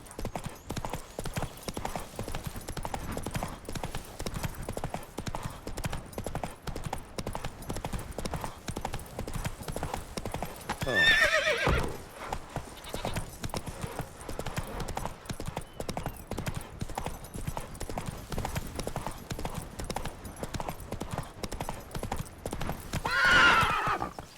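Roach, the horse in the Witcher 3 video game, gallops with a rapid, steady clip-clop of hooves that runs throughout, broken by two loud whinnies, with brief speech faintly present.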